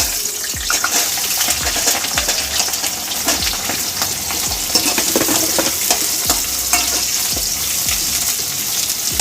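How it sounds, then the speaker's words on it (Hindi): Chopped onions hit hot refined oil in a kadai, giving a loud, continuous crackling sizzle with frequent stirring clatters throughout. "कटे हुए प्याज डालेंगे।"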